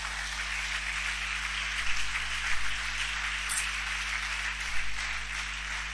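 Church congregation clapping and cheering to acclaim Jesus during a French-language service, a steady wash of applause at moderate level, fairly even throughout with a few louder claps.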